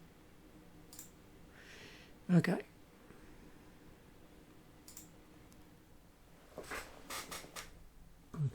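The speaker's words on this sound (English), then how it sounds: "And then we've got to shuffle this." Magic: The Gathering card deck being shuffled by hand, soft riffling and clicking bursts scattered across the clip, with a quiet voice speaking briefly.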